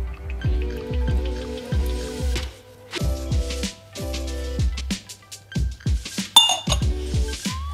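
Semolina and cardamom being stirred in a pot, heard as a steady run of close, rhythmic metallic scrapes and clinks of a spoon against the pot, in bursts with short pauses, no talk.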